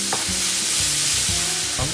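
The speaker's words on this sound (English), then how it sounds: "Now to that fry pan with a bit of oil, I'll put in some sliced ginger." Sliced ginger sizzles in a little oil in a frying pan, a loud, steady hiss throughout with low scraping knocks from stirring repeating about every half second, close up.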